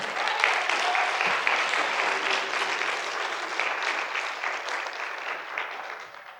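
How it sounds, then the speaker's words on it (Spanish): A church congregation breaks into sustained applause, a bright, even wash of many hands clapping that holds steady and then tapers off at the close. "Un aplauso."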